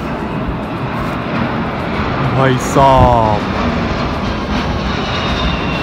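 Rafale fighter jets fly low overhead during a foggy Republic Day flypast watched from rooftop terraces. A loud engine roar swells and sweeps past, peaking mid-clip, while someone talks over it.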